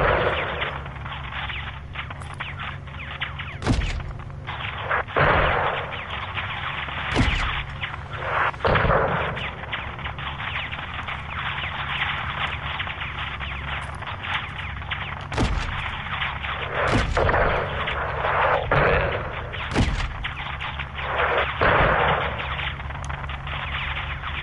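Heavy video game combat on PS4 with repeated gunshots and booming artillery blasts, sharp bursts spaced irregularly over a continuous roar of battle noise, loud and close with no talk.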